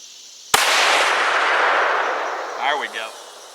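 A single sharp, very loud rifle shot from a 6.5 Creedmoor fitted with a muzzle brake at an outdoor range, followed by a long rolling echo that slowly fades, with a brief faint voice near the end.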